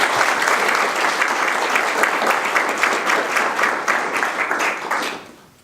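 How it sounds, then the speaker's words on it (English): An award show audience gives a loud round of applause for humanities scholars, with dense, steady clapping that fades out over the last second. "Please join me in a round of applause for our distinguished humanities scholars"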